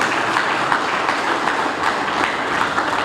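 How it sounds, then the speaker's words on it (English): Steady, dense clapping from a gathered audience at a fire station opening ceremony, loud and continuous with no talk. "You can clap, yeah."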